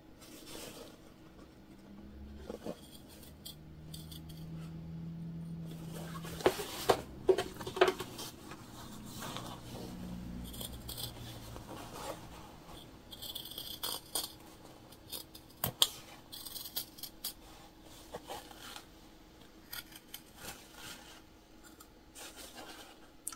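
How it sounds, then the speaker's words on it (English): Scissors cut through fabric pieces for a beginner sewing-pattern bag, including a zipper pocket piece and the main interior. Soft, close snips and crisp rustles come in irregular bursts, with faint handling noise and no talk. "We're cutting through both the zipper pocket piece and the main interior."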